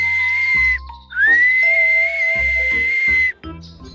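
A sustained, piercing whistle holds a steady high note for a couple of seconds, broken by short pauses, with a low rumble of wind underneath.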